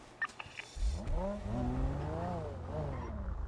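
A car in the GTA video game pulls away, its engine rising through a few rev swells at close range, with a brief voice at the start.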